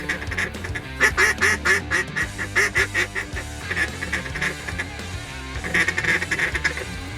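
Mallard ducks calling during a hunt, a run of loud, rapid quacks in repeated bursts, close by and dense, with brief pauses between volleys.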